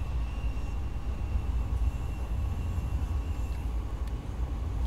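A train in Train Sim World 2 runs with a continuous low rumble and rolling drone, steady and moderately loud throughout, with a faint high whine above it and no voices.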